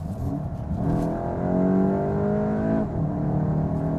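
A Volkswagen Golf GTI accelerates hard from 60 to 100 on a German autobahn, its engine drone rising steadily in pitch from inside the cabin, with a brief dip at a gear shift before climbing again.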